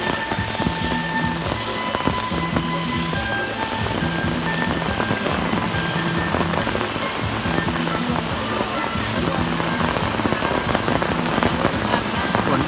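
Steady rain falls on a surface at an outdoor ceremony in Sangkha, Surin, a dense continuous patter throughout with faint voices in the background.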